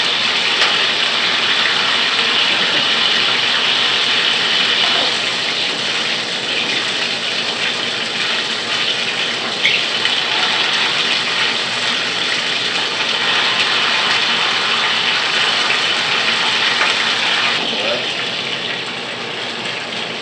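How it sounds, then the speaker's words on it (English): Asparagus sautéing in a hot pan, a steady broadband sizzle and hiss lasting throughout at close range, with a brief flare of crackle near the end. "all I'm doing, guys, is just sauteing the asparagus"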